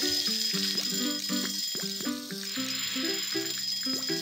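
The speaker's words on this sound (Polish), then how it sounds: "właśnie mi dzwoni tutaj. Dzwoneczek. Pod każdym naleśnikiem, że już są gotowe." Bicycle-bell-like ringing from Papa's Pancakeria 2 signals that waffle-iron pancakes are ready, quick repeated trills loud over a bright, steady game music backdrop.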